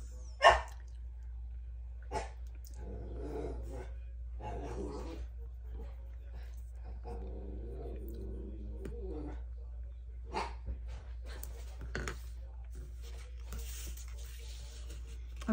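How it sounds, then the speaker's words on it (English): Puppies bark in short scattered bursts with some growling, fairly close, spread through quiet room tone. "the puppies are gonna start arguing"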